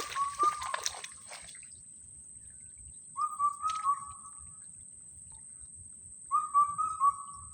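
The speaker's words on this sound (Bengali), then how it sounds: "কত সুন্দরভাবে পাখিটা ডাকছে" A bird singing in a forest in southern Bangladesh, three short whistled phrases about three seconds apart, fairly faint over a soft trickling background.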